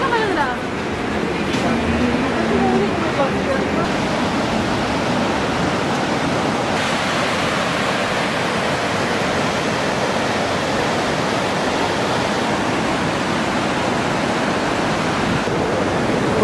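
Hot spring water flowing steadily at the Manikaran gurudwara, a loud continuous rushing wash that fills the whole stretch, with a brief voice near the start.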